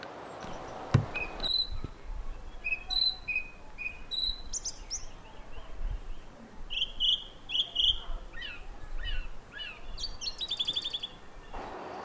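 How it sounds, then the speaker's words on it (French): Birds sing in a garden in Aalbeke in May, with repeated high chirps and short warbled phrases spread across the scene, moderately distant over a steady soft outdoor hum and faint insect-like background. "les oiseaux chantent"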